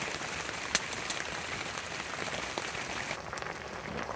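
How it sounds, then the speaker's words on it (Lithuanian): Light rain patters steadily on a surface in a forest camp, a dense soft hiss with a few sharper ticks from small hail. "Nu va, duoda biškį leduko mums. Bet gerai laiko, čia tik biškį lauža lyja."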